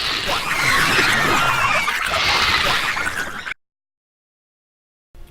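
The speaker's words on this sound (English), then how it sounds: "Then the Zerg dying." Zerg dying sound effect for a StarCraft 2 Wings of Liberty trailer: loud, layered creature squeals and shrieks over a rough, crunching rumble for about three and a half seconds, then a sudden cut to silence, with no talk.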